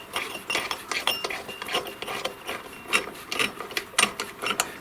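Bolt beneath a Honda lawnmower carburetor being loosened with a ratchet: quick, uneven bursts of close mechanical clicking and scraping, with brief pauses between strokes.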